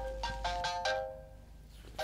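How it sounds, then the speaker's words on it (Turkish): A telephone rings with repeated electronic trills, stops briefly, then starts ringing again; fairly close and clear. "Telefon."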